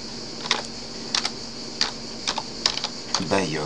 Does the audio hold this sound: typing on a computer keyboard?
yes